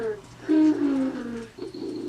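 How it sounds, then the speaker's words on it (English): A FurReal Ivory toy tiger gives a close electronic purr, soft rising and falling cooing tones in short swells over about two seconds. "She's purring."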